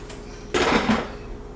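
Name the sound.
cooking pot and lid clanking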